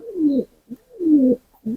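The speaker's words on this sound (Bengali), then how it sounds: "একটা কবুতর ওই দেখেন ওই ডিমে ডিম পাড়ার জন্য অবশ্য ডাকতেছে" A pigeon coos to lay eggs, two drawn-out descending coos with short soft notes between, close and clear with no other sound.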